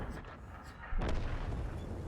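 The Jager tank destroyer fires its cannon in a World of Tanks battle: a single heavy boom about a second in, ringing over a steady background rumble.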